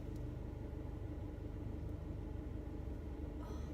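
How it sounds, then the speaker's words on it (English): A car engine rumbles nearby at a steady idle, a continuous low drone with no talking over it. "What is this car doing?"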